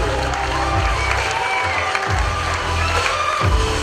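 An audience at a junior KVN comedy league final in Ufa cheers and claps, a loud crowd roar with shouts and whoops from young voices over scattered applause, continuous throughout.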